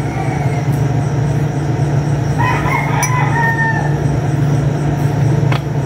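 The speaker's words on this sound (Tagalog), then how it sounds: "Nagigising na ang mga manok." A rooster crows loudly once, with another fainter rooster crowing nearby at dawn, over a constant low rumbling hum in the background.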